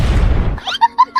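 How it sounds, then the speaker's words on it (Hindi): A firecracker goes off near ants in a cartoon: a single loud, close boom that decays quickly, followed by a few short tonal chirps. "ये बच्चा पटाखा जला के चिट्टियों पर फेंकता"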